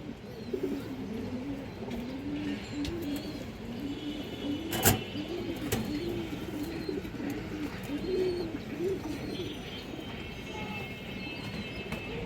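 Soft, repeated pigeon cooing in a low rolling rhythm, with a faint metallic clink partway through and a steady background hum.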